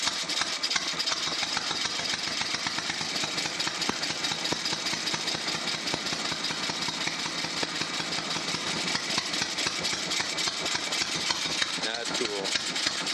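A Moto Guzzi motorcycle engine runs just after starting, a rapid, even chugging idle with a rough, mechanical edge, held steadily up close.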